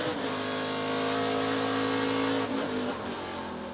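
NASCAR Craftsman Truck Series race truck engine roaring loud and close as the driver works the throttle, a steady high-revving drone that dips and lifts briefly near the end as the gas is modulated.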